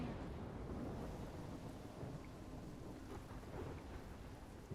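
Thunderstorm with steady rain in Life Is Strange, a dense continuous roar of rainfall with low rumbling thunder rolling underneath, loud and unbroken throughout with no voices.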